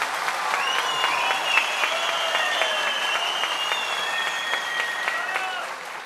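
A studio audience applauding on a Turkish talk show, sustained dense clapping from a large crowd with steady loudness, while a melodic musical sting plays over it and fades toward the end.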